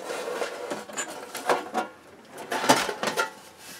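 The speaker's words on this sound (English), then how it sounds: "let's take the lid off and have a look inside first" The metal lid comes off a Harman Kardon HK 725 preamplifier with a series of light, close clanks, taps and sliding scrapes, spaced irregularly across a few seconds in a quiet room.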